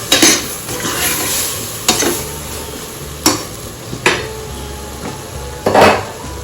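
Pork dinuguan with bottle squash being stirred in a pan, giving a close, steady wet sizzle broken by sharp clacks of the utensil against the pan about once a second, with no talking.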